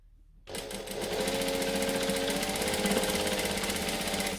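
A sewing machine runs steadily, stitching a McCall's M7314 dress along a curve over pins, starting abruptly after a brief quiet moment and then humming with a loud, continuous rapid rattle close by.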